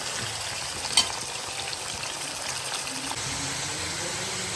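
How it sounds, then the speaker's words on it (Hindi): Small boneless chicken pieces frying in a pan give a steady, even sizzle and hiss, with one faint clink of a utensil early on. "इसका कलर चेंज होने तक हम इसको फ्राई करेंगे पहले चिकन को"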